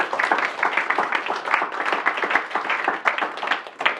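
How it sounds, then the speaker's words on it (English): A small symposium audience gives a short round of applause for three speakers, with sharp, close individual claps in a lively, uneven rhythm that holds steady throughout. "can we give these three speakers a round of applause?"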